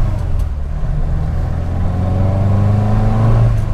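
A domestic-made car's small 1.2-litre, 51 hp engine revs up steadily and loudly nearby, with rising harmonic pitch building toward the end and no talk over it.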